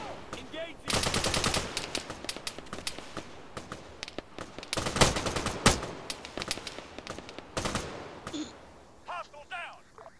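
Rapid machine gun fire in a video game firefight, long dense bursts of near, loud automatic shots broken by short pauses, with scattered distant shots and a voice talking in between.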